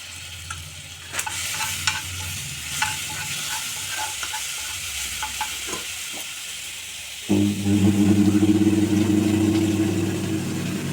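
Onion-garlic paste frying in hot oil and being stirred, with intermittent scraping taps over a steady sizzle that turns louder and denser partway through, then continues as a strong, close hiss.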